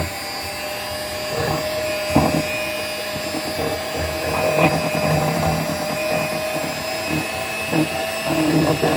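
Electric stand mixer churning a batch without its whisk attachment, a steady whirring motor hum with faint periodic knocks and slight surges throughout, fairly close.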